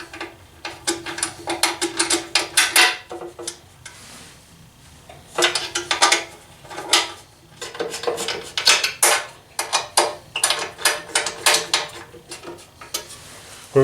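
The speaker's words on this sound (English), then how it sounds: "We're going to put in the 4 rear 5mm bolts, and then we'll put in the 2 front." Metal bolts being handled and fitted into an AltRider aluminium skid plate on a Honda Africa Twin CRF1000L: close clinks, rattles and ratcheting clicks in irregular bursts separated by quiet gaps.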